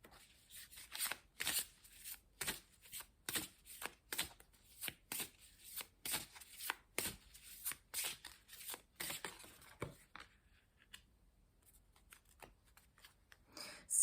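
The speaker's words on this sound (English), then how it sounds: "I want to pull another card as well." Tarot cards being shuffled and pulled from a deck, with a steady run of crisp riffling bursts at a close distance, then a quieter pause with a few soft card handling sounds near the end.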